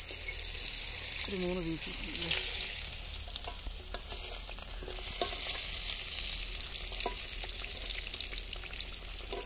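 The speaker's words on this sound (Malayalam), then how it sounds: "ഇത് നല്ലതായിട്ട് ഡീപ്പ് ഫ്രൈ ആയിട്ടുണ്ട്" Broasted chicken pieces deep frying in oil make a continuous bubbling hiss, with occasional clinks and handling noises; a person speaks briefly over the steady sizzle.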